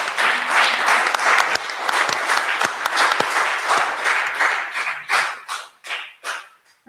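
Applause from a live audience at a political forum, a full burst of clapping that stays dense at first, then breaks into separate fading claps toward the end.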